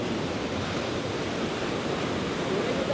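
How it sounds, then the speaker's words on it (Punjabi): At Trimmu barrage, river water rushes with a dense, constant roar that is loud and close, with no pauses and no voices. "ਚੱਲਦਾ ਪਾਣੀ ਖੌਫਨਾਕ ਅੱਜ ਦੇਖਿਆ"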